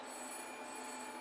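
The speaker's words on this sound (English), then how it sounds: "Fucking phone's ringing." A telephone rings continuously, a bright sustained electronic ring sitting loud and steady the whole time with no talking.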